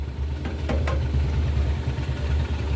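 A New Holland 5620 CRDI 4x4 tractor diesel engine idles nearby with a steady low rumble and vibration, plus a couple of faint ticks early on.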